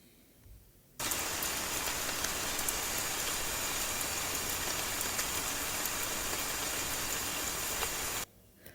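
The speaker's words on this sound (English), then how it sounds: "This is gentle rain. Gentle rain means soft rain." Soft, gentle rain falls in a steady, dense hiss that starts abruptly and runs unbroken for about seven seconds before cutting off, with no voices over it.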